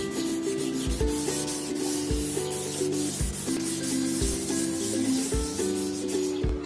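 Coarse sandpaper, rougher than 400 grit, rubs back and forth on a car headlight in a steady scraping rhythm, loud and close, with music playing underneath.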